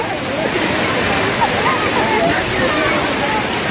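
A waterfall roars as steady, loud broadband rushing water throughout, with people talking over it.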